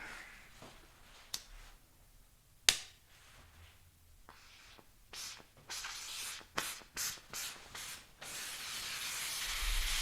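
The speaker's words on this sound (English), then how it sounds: "I like to rev the torch" A blowtorch flame is revved in short roaring hisses that come in quick repeated bursts and then build into a steadier rushing hiss, close by, after a few faint clicks and knocks.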